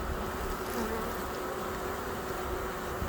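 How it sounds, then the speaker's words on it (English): Honeybees buzzing inside a hive colony fed a sugar brick and pollen supplement, a dense continuous hum heard up close, steady and loud with no talk. "My bees turned a sugar brick to comb, and they're just going crazy in here"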